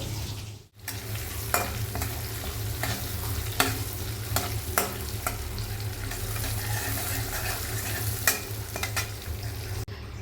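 Shrimp frying with onions and green chilies in a pan, a continuous loud sizzle broken by repeated sharp scrapes and clinks of stirring, with no voices.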